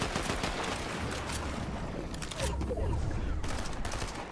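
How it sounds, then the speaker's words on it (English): Dense, continuous crackle of distant rifle fire as many players shoot at each other in a Fortnite match, a steady rattling barrage with no clear pauses and faint speech mixed in. "then you hear so many players firing off on one another"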